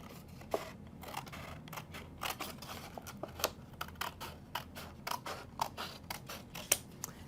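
Scissors snip through craft material in a string of crisp, close cuts, irregular in rhythm and heard alone without talk.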